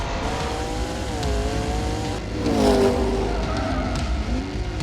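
A car spins its wheels in sixth gear, its engine roaring loudly with a wavering, sweeping pitch and squealing tyres throughout, swelling louder midway through.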